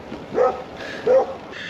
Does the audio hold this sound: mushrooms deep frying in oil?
no